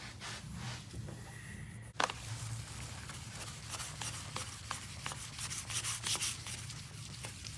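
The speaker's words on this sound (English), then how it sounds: "you can actually hear the sandpaper cutting that coating" Sandpaper rubs across a polycarbonate coating film on a race car part, a close, steady scratchy rasp in repeated strokes, with a sharp knock near the start and no talking.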